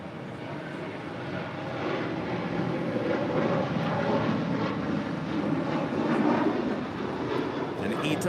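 A United Boeing 737 takes off from runway 25 right at LAX, a steady, broad jet roar that swells slightly and holds for the whole stretch, with faint voices underneath.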